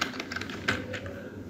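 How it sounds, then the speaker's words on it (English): A few quick taps on a computer keyboard while entering router configuration commands, soft and close with uneven spacing between keystrokes. "And now I will type the keyword"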